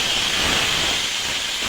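A paste of ground black mustard, cumin and green chilli fries in hot oil, giving a steady, dense hiss that holds evenly throughout without pause.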